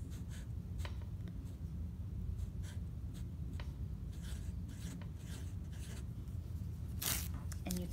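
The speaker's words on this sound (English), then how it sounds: "you can write down what day you planted the seeds." A marker or pen writes a planting date onto a seed cup, a steady scratchy rubbing of the tip with a few short sharp strokes, close and fairly continuous, over a low background hum.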